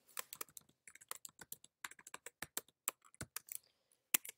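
Rapid, uneven keystrokes on a Mac computer keyboard while a word is typed into a spreadsheet, crisp and close with brief pauses between bursts, no voices.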